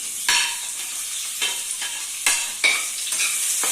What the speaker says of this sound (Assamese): অকণমান অলপ পিঁয়াজখিনি মই ইয়াতে ভাজি লওঁ